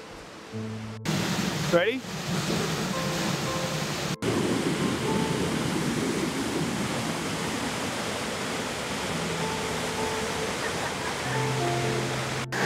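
A river flows in Northern Ireland, giving a steady broad rush of water heard close and continuous. Brief voices speak near the start and end.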